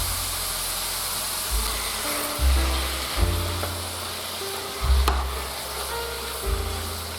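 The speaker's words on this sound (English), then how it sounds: "I will brown beef for few minutes" Ground beef browning in a pan over high heat: a steady, even sizzle and hiss runs the whole time, with a few soft scraping stirs and low thumps from the pan, close by, with no talking.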